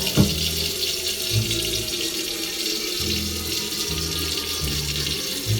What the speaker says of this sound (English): Fill it up with hot water.